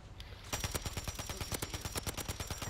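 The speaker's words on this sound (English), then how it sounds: "Oh, but they're right above us shooting." Rapid automatic gunfire from enemies positioned overhead in the Call of Duty shooter, a dense rattling burst of close, loud shots in quick steady rhythm, preceded by a brief quieter lead-in.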